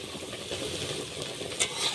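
Chopped spinach fries in hot oil with a soft, close, steady sizzle and bubbling that stays even throughout, with a small crackle near the end.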